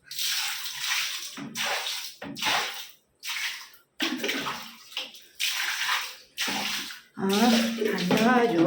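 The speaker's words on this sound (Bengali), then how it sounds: "পাটা ধুই, মুখে চোখে জল মারি" Cold water splashed by hand onto face and feet while washing up on a hot day, a run of close, hissing splashes broken by short pauses, with a voice speaking near the end.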